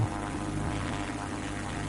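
A private jet's engine roars steadily in a flight video game, a dense, unbroken drone with no pauses while the burning aircraft struggles to land.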